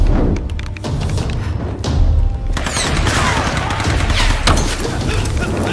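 Rapid gunfire and heavy dynamite blasts in the Tomb Raider video game, dense overlapping shots and thuds with several loud bursts, continuous and close with no talking.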